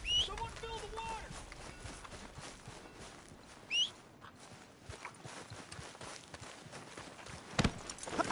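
Horse hooves clip-clop in Red Dead Redemption 2, a steady walking rhythm heard close under spoken dialogue and ambient game sounds, with a few brief louder knocks near the end.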